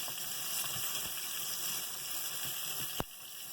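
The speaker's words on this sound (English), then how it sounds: "Potatoes are boiling on the back of the stove." A steady low bubbling and hissing of a pot of potatoes boiling on a stove, fairly faint and continuous, with a sharp click near the end.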